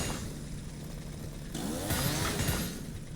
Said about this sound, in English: You have to chainsaw your way out.